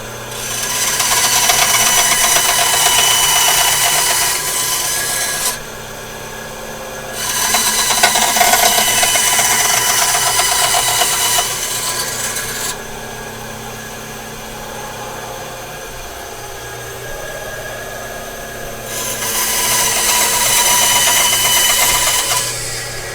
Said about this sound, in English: We're about to get a bandsaw inbound, so watch your headphones.